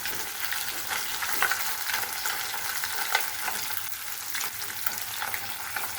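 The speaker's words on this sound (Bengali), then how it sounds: "এসব দিয়েই এই মশলাটি আমি হালকা ভেজে নেব" Onion, garlic, green chillies and dried chillies fry lightly in a pan for rui fish bharta, giving a steady close sizzle broken by occasional stirring scrapes.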